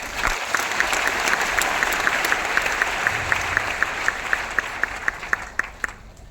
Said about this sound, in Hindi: आपको बड़ा ताली होना चाहिए